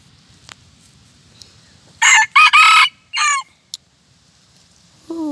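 A decoy game cock, used for luring wild junglefowl, crows loudly and close in a quiet outdoor setting, one broken crow in bursts, followed by a short faint call.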